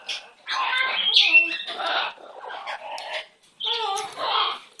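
A pet bird chirps and squawks in short bursts, close by, mixed with a person's affectionate talking throughout.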